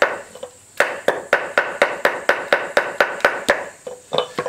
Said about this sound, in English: you can use that axe on the face of something like this and it won't dig in as bad because of that flat face